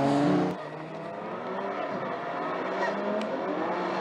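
Drift cars launch from a standing start at a Formula Drift Japan event, engines roaring loud and continuous with a sharp burst at the outset settling into a sustained high-revving drone as they accelerate away.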